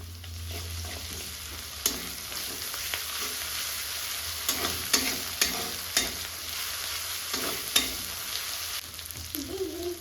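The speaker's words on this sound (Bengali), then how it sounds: "পেঁয়াজটা হালকা লাল লাল করে ভাজা হয়ে গেছে আদা রসুন আর কাঁচা লঙ্কা পেস্ট" Chopped onion, browned lightly, fries in a pan with ginger, garlic and green chili paste, producing a soft steady sizzle with occasional sharp spoon scrapes and taps against the pan, fairly quiet and close.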